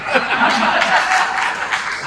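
Applause and scattered laughter from an audience at a Hindi poetry recital (kavi sammelan), a steady dense wash of clapping throughout with chuckles mixed in.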